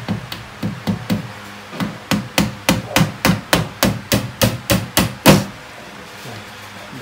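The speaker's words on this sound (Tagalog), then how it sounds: "gumamit kayo ng martilyo" A hammer drives nails into a cardboard panel of a side cabinet in a steady series of about eighteen sharp knocks, the blows close and evenly paced, ending with one harder hit.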